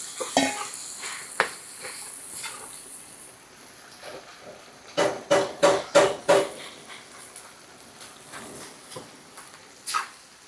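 Ground pork frying in a pan with garlic and onion, a steady sizzle broken by a run of rhythmic spatula scrapes and knocks against the pan, close and fairly loud, with no talking.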